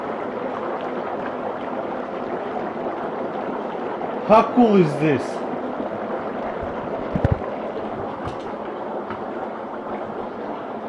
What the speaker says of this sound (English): we're gonna grab all this dry ice, about 2 pounds, and put it inside of the water